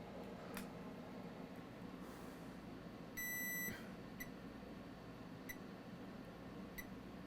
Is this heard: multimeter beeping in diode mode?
yes